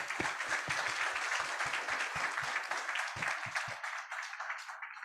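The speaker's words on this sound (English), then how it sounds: "please join me for a great round of applause to our speakers today." An audience at a Global Human Capital Summit 2022 session breaks into sustained applause for the speakers, dense clapping throughout that fades and thins near the end.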